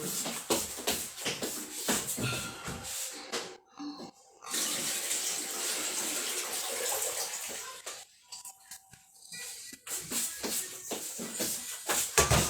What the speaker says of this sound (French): Attends, je vais mettre l'eau.